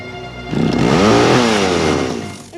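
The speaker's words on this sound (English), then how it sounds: "Oh, he's going for a chainsaw" A chainsaw roaring in a movie scene, a loud close motor whine that rises and falls over a couple of seconds, alone without talk.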